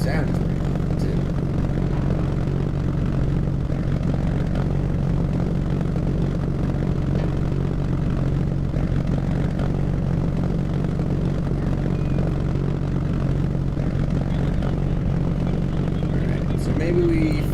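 A propeller plane engine in Kerbal Space Program drones steadily and loudly throughout as the aircraft is tested, a constant low hum with no letup, while a person talks over it.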